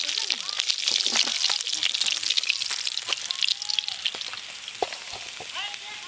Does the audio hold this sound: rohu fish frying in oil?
yes